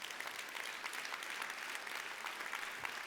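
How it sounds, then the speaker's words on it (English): A conference audience at a library plenary session claps steadily, even and continuous applause filling the room with no voices over it. "Applause, I think they should have for that."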